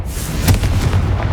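A Confringo fire spell explodes in the Hogwarts Legacy video game. It is one loud, sharp blast over a rumbling battle din.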